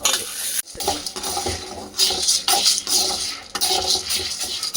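Chana dal and urad dal dry roasting together in a pan, with continuous scraping and rattling of the spatula against metal and lentils shifting, close and fairly loud, no talk.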